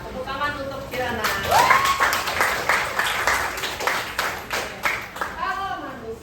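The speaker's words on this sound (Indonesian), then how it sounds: "Tepuk tangan untuk Kirana" A primary-school class claps for a pupil, several seconds of rhythmic clapping mixed with children's voices, and a teacher speaks at the start and end.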